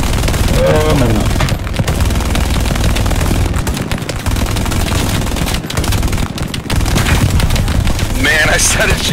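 Sustained machine gun suppressive fire in Hell Let Loose, a loud, rapid, continuous rattle of bursts with short gaps, mixed with distant battlefield booms and returning shots, no clear speech over it.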